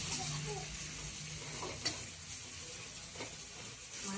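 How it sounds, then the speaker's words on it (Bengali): Garlic and onion fry in a pan for a fish curry, a soft, fairly faint sizzle with a couple of brief utensil taps. "রসুন দিনু, পেঁয়াজ দিনু, লাল লাল করে ভাজতে হবে।"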